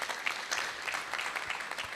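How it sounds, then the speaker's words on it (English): An audience at a political pre-budget consultation in Couva South claps in a brief, fairly faint burst of applause with scattered individual claps. "Give yourselves a round of applause."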